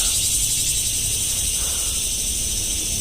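Crickets chirp in a steady, dense high drone at dusk, continuous and fairly loud throughout, with no talking.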